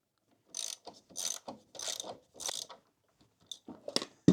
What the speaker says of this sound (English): Get this bottom bolted in.